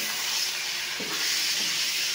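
Pork sautéing with garlic and onion in a hot pan, giving a loud, even hiss of sizzling throughout.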